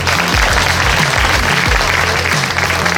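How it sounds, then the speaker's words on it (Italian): Loud, continuous audience applause at a Miss Italia regional pageant evening, a thick wash of clapping with low rhythmic music pulsing underneath. "Vi chiedo un applauso per tutti quanti loro"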